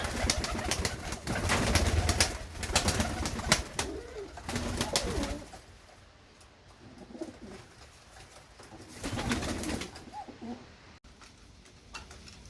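Mykolaiv pigeons in heavy moult coo softly in low, rolling calls inside a pigeon loft, mixed with rustling and scuffling nearby as they eat.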